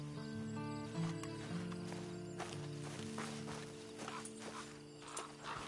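A horse in a video game clip-clops at a steady walk, hooves knocking in an even rhythm over a low sustained musical drone, moderately close with no talk.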